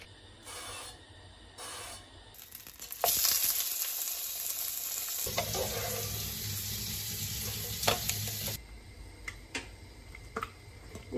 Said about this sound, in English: Then you just like put it in your stove and you just fry it.